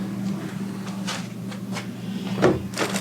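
Freezer door on a homestead chest or upright freezer being opened and shut, a few soft knocks and clunks over a steady low hum, closing thud strongest near the end.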